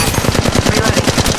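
Rapid automatic gunfire in the Apex Legends Mobile video game, a fast regular burst of punchy shots running throughout, loud and near, with no talk over it.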